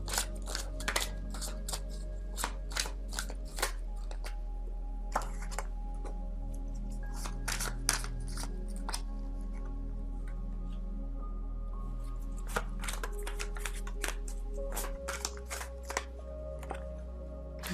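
Tarot cards being shuffled and pulled by hand, soft papery slaps and riffles in irregular bursts, close and fairly quiet, with no talking.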